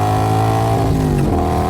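A motorcycle engine revs hard and loud, close by, its pitch climbing then dropping over a couple of seconds as the rider speeds off, with no talking over it.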